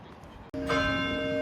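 A church bell rings ten minutes before the hour on a town walk, one loud, close strike that keeps humming and ringing out after a brief hush in the street noise.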